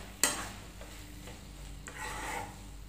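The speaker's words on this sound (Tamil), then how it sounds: "இப்படி ஆட் பண்ணி நம்ம அந்த ஆயில்லையே இந்த இலைகளை நம்ம வதக்கணும்" Coriander leaves sauté in hot oil for channa biryani, a soft, fairly quiet sizzle with a sharp clink of a spoon at the start and light stirring scrapes afterward.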